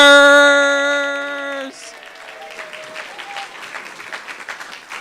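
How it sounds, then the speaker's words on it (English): An audience at an RScP event breaks into loud, sustained applause for practitioners, starting right as a held musical chord cuts off and continuing as an even patter to the end. "let's have a big round of applause for our amazing, practically amazing practitioners"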